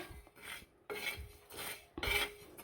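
Bode soppu leaves being stirred in a pan during home preparation of adike pudi, three rhythmic scraping strokes of a spatula against the metal with a faint dry rustle beneath, close and quiet with no voices.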